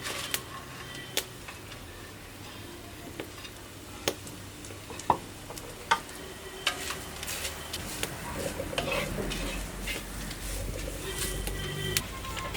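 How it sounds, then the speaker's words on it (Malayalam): Grated coconut with chilli and coriander roasts in coconut oil for a Kerala bitter gourd theeyal, a soft low sizzle punctuated by sharp clicks of a spoon stirring against the pan. "അപ്പം തേങ്ങ വറുത്തെടുക്കാണ്ട് നമുക്ക് തേങ്ങ ഇട്ട് കൊടുക്കാം."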